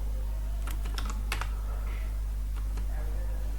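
A computer keyboard is typed on while writing web design code, giving short bursts of close, crisp key clicks at an uneven pace. A constant low electrical hum sits underneath.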